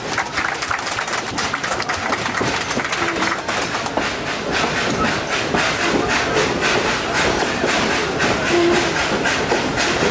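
Steam engine 192 on the Dollywood theme park railroad in East Tennessee rolls along the rails with a steady, loud clickety-clack and rumble under a constant hiss, continuous throughout without clear speech.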